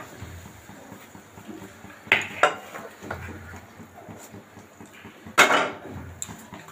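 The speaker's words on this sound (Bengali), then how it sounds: "ঠিক এইভাবে দিয়ে উপর থেকে আমি মাছটাকে উল্টে দেবো" Small fried fish for a patturi with bottle gourd peel is flipped onto two banana leaves in a pan lid, giving a few sharp clattering knocks of metal spaced apart over a quiet background.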